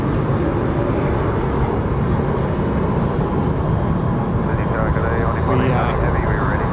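A Bohemia passenger aircraft takes off from Sydney Airport runway 34 left, its engines producing a steady, loud broadband roar throughout, with faint chatter under the noise.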